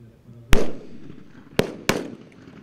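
Rifle shots at an army sniper competition: three sharp, loud cracks, the first with a longer rolling echo and the last two about 0.3 seconds apart, over outdoor background noise.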